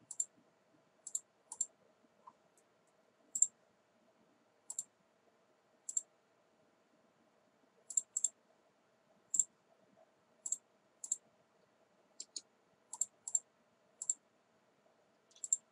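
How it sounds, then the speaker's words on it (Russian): Computer mouse left button clicks while drafting a house floor plan in AutoCAD, sharp single and double clicks at irregular intervals over a faint steady hum, with no talking. "Я цепляюсь за маркер и нажимаю левой клавишей мыши."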